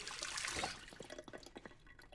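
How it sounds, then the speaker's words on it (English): Water from a dispenser in the Project Zomboid video game, a short soft gush and trickle of liquid filling a container, then a few faint drips, heard alone. "There's sounds added for drinking and filling containers from a water dispenser."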